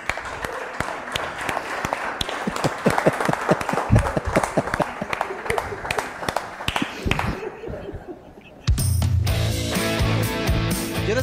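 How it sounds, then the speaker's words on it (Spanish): A studio audience on a Spanish-language talk show bursts into sustained applause, many hands clapping in a dense, lively patter for several seconds before it cuts abruptly to music. "Un aplauso para José Luis Moreira."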